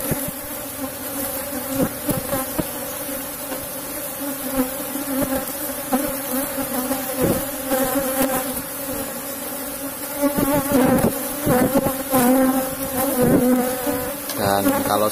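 An Apis cerana honey bee colony drones continuously during a honey harvest, a dense, close, steady buzz of many bees with individual wingbeats rising and falling throughout.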